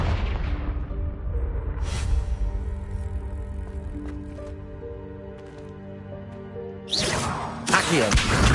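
A Confringo blast spell explodes in the video game Hogwarts Legacy: a deep booming hit followed by a ringing tail, then two more loud bursting blasts near the end.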